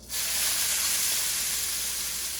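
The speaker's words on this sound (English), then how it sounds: "Get a nice sizzle." Noodles sizzling in hot oil in a wok, a bright steady hiss that bursts in suddenly and holds loud and close.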